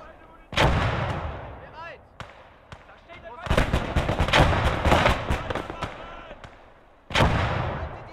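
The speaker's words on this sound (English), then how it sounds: "we're losing men to those goddamn mortars" Mortar and artillery explosions in a World War II eastern front strategy game set during the invasion of Poland: heavy booming blasts in three loud bursts, with a dense run of rapid impacts and gunfire in the middle, mixed with shouting voices.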